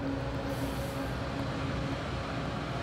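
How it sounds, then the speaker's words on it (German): Passenger train wagons rolling past at a station in Karl-Marx-Stadt, a steady, dense rumble of wheels on rails with a faint tonal hum, continuous and even throughout, no voices. "Oh, die Wagen klingen auch schön."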